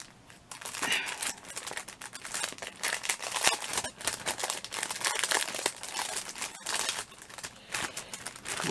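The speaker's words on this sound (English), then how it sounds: "I have to undo all the packaging" Crinkly plastic packaging around craft kits is handled and unwrapped close by, dense irregular crackling and rustling bursts that continue throughout at moderate loudness with no speech.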